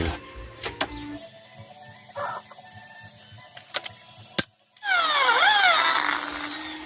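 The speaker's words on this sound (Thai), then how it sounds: "แล้วเราก็เจาะยึดเข้าไปได้เลย" Power drill driving fasteners into a window frame during installation: short whirring bursts and clicks with quiet gaps, then a louder whining drill run with rising and falling pitch near the end.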